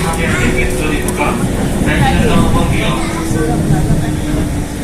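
Manggarai train station in Jakarta, by the long-distance train tracks: a steady low rumble of rail and engine noise with a faint sustained hum, heard near and continuous under a voice talking.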